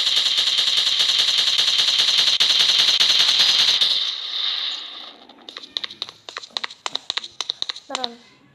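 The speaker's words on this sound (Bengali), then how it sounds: "অনেক ফায়ার করতে হচ্ছে" Rapid automatic gunfire from a gangster video game rattles in a dense continuous burst, then breaks into a string of sharp separate shots with fading tails.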